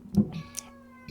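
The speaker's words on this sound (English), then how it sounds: "Oh, Cheeto, I don't know if you can hear him meowing." A cat gives a short, close meow, followed by faint ticking and a quiet background hum.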